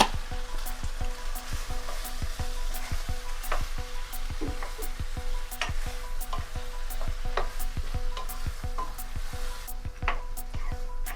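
Onions with a half teaspoon of turmeric sauté in a pan for a tomato chutney, a steady close sizzle with frequent stirring scrapes and spoon clicks against the pan throughout.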